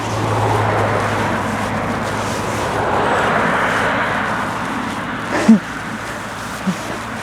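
Cars passing on a road beside an open field in Germany, a steady broad rush of traffic with a faint far engine drone throughout and a couple of brief louder knocks near the end.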